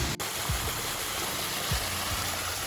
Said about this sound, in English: The sounds of waterfalls.